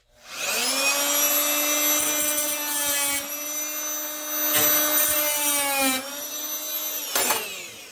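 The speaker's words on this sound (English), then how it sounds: "cut it with my multi-tool here" Oscillating multi-tool cutting through rubber snowblower impeller material, a loud steady whine with stacked harmonics running almost the whole time, dipping and shifting pitch as the blade bites, then stopping briefly near the end.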